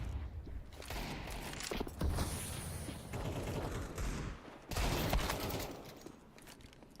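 Gunfire from a Counter-Strike match crackles in rapid bursts and fusillades, with louder volleys around the middle and later, mixed with game ambience.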